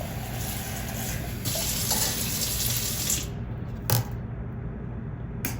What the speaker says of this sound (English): put cold water on the eggs